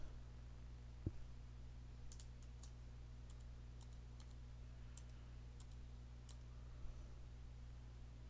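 Light, sparse clicks of typing on a computer keyboard sound faint over a quiet room hum, coming in short irregular bursts.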